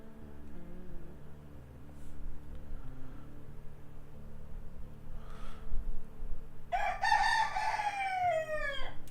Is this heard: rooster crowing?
yes